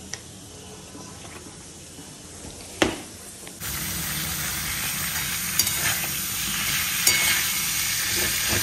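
Vegetables for a drumstick curry with potato and eggplant fry in a pan. A quiet start and a sharp knock lead into a loud steady sizzle with a few stirring clicks.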